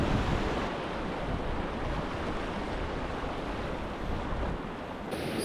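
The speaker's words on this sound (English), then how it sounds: "So we're at the Class 4 rapid that is just preceding 25 Mile Creek." A Class 4 river rapid roars with rushing whitewater, a dense, steady torrent of noise that stays loud and close throughout without any talk.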